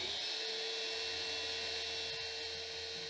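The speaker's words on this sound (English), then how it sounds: "So first drilling the holes for some alignment pins" A CNC router spindle drilling alignment-pin holes whines at a steady high pitch over a constant mechanical hum, continuous and fairly close, with no pauses.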